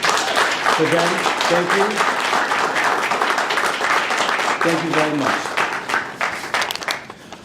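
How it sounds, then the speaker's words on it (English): Audience applause at a Capitol Hill Armenian Genocide observance, steady crowd clapping filling the whole stretch while a voice speaks over it near the start and again midway. "I would like a round of applause for them."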